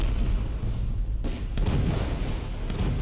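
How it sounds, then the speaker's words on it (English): Booming artillery fire, several heavy blasts rolling over a low rumble, loud and dense with no talking. "Some artillery also to kind of bridge the gap between those two shots."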